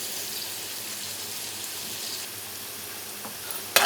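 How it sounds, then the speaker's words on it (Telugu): Egg fried rice ingredients sizzle steadily in a pan over high heat, giving a constant close frying hiss with no voices, ending in a brief clatter. "ఇవి ఇలా ఫ్రై అవుతూ ఉంటాయి."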